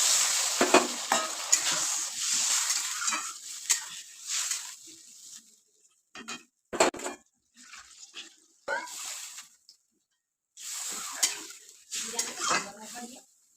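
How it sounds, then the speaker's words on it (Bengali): Muri ghonto is stirred in a pot after water is added, heard as close bursts of scraping, sloshing and sizzling separated by short quiet pauses. "মুড়ি ঘন্ট এবার নেড়ে চেড়ে জল দিয়ে দিলাম"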